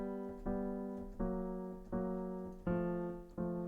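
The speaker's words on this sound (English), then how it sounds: "So if I just play the bottom 2 notes of the right hand together," Piano playing two-note dyads from the bottom of the right-hand part in a slow chromatic descent: five separate struck chords, each ringing and decaying before the next, quiet and close with no talking.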